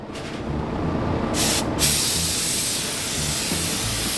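A paint sprayer hisses out blue paint onto an old junkyard Plymouth, a steady close broadband spray with brief pauses and restarts, with a low mechanical rumble beneath it.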